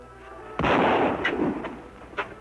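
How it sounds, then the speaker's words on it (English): Gunshots ring out in an old Western town, a loud close blast followed by a few sharper, fainter cracks spaced over a couple of seconds, with no talk. "Who's shooting?"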